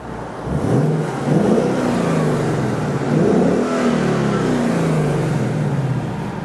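A 2016 Ford Mustang GT engine with stock exhaust revs up and settles repeatedly in steady, throaty swells, sounding close by and fairly loud with a deep exhaust note.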